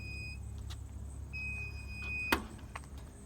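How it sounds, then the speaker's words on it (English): A ZT68J machine's key-on warning alarm beeps steadily, two alternating high tones, continuously over a low machine hum, with a sharp click partway through. "You can hear the alarm going right now because I have the key on"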